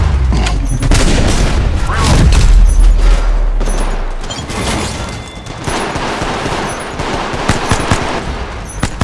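A grenade blast in the Apex Legends Mobile game: a heavy low boom opening a loud, busy stretch of gunfire bursts and crashes, with clattering shots continuing after the explosion.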